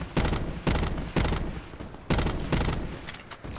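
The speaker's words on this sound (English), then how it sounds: "I'm launching bullets." Gunfire in the video game Call of Duty Black Ops 4, Blackout ground war mode: a series of six loud, evenly spaced shots at close range, each with a short decaying tail.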